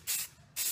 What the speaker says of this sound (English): giving the whole thing a nice even coat of white spray paint